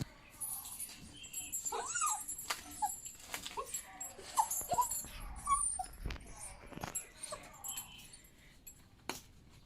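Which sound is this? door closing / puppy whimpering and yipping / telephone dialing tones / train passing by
puppy whimpering and yipping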